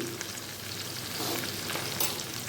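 Onion and capsicum frying in a pan give a steady, soft sizzle that runs evenly throughout, with no voices over it.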